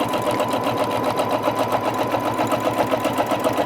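A sewing machine stitching a quilting ruler design, a steady close whirring drone with a fast, even mechanical pulse that runs the whole time without pause.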